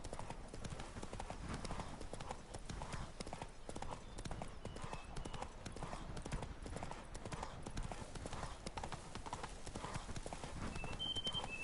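Roach the horse gallops in the video game The Witcher 3 with a fast, even clip-clop of hooves that runs steadily from start to end, at moderate loudness.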